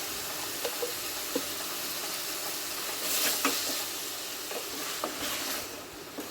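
Ginger and garlic paste goes into a sizzling pan of prawns and vegetables. A continuous close sizzle runs throughout, with soft stirring scrapes and a brief louder burst midway.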